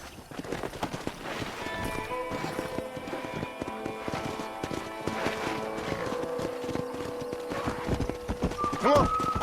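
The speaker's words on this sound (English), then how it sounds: "there's a pack of wild horses nearby" A pack of wild horses in the video game Red Dead Redemption, with hooves clip-clopping steadily up close and a sharp whinny near the end. Voices and ambient game sound run underneath.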